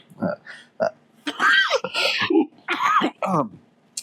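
Several short, harsh coughs and throat-clearing bursts from a radio broadcaster at a DXDD station, loud and close, in quick irregular succession with brief gaps between them.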